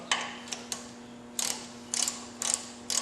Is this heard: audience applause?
no